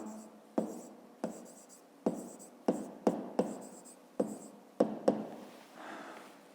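Numbers written on paper during a fifth-grade maths exercise: repeated sharp taps and short scratching strokes of a pen, close and fairly loud, each followed by a fading tail, and no voices.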